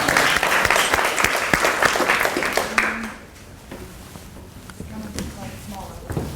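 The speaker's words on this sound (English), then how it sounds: "Let's give Tess a big round of applause." A live talk audience breaks into applause, a dense, loud clatter of many hands for about three seconds that then drops to scattered claps and faint room noise.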